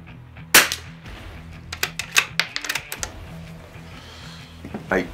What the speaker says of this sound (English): The first group we're going to shoot is with the normal subsonics.